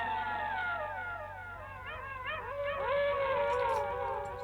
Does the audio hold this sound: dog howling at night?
yes